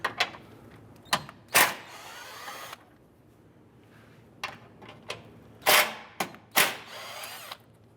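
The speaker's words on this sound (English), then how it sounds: "Let's remove the two 10mm bolts holding the top portion of our grill" Short power tool bursts, likely a drill or impact driver backing out the two 10mm bolts on the upper grille of a 2011-2017 Honda Odyssey. The whirs are brief and close, separated by quiet gaps.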